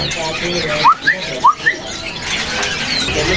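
A few quick, bright straw-headed bulbul chirps ring out amid the steady hum and chatter of a crowded bird market.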